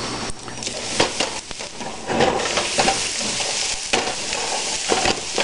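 Diced rutabagas fry on medium heat in a pan, a steady close sizzle broken by scraping stirs and clinks of the utensil against the pan, with no voices.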